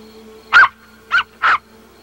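A dog on an island gives three sharp barks or yelps in quick succession during a scuffle with a cat, fairly close and loud, with no talking over it.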